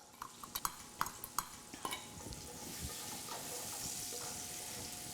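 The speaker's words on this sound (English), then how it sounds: "now I'm going to come back with some shallots and some garlic that I'd already minced up" Minced shallots and garlic hit a hot pan, starting with a few sharp utensil clinks and scrapes, then settling into a steady, moderate sizzle that continues to the end with no speech.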